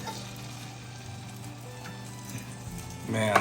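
French toast fries in a pan with a steady close sizzle throughout, and a louder crackle near the end as it settles into the hot fat.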